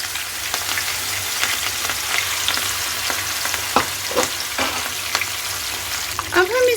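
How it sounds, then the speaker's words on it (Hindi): Fish frying in hot mustard oil, a continuous crackling sizzle with scattered sharper pops throughout, close and fairly loud. "अब हम इसमें एक एक करके मछली फ्राई होने के लिए इसमें डाल देंगे।"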